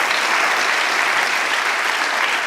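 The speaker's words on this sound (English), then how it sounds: "I don't know if you could hear it in midst of the crowd clapping" A TV studio audience claps steadily in a dense, continuous wash of applause that stays loud and even throughout, with no pauses.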